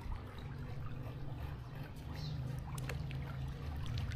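Water sloshes and churns steadily in a freshly cleaned outdoor swimming pool as someone steps in, a continuous close splashing wash with no speech.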